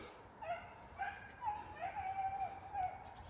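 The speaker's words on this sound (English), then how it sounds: "But these dogs just been going nuts waiting to get out here." Hunting dogs whine and yip in a high, wavering chorus, with short excited bursts repeating every half second or so over low background rumble.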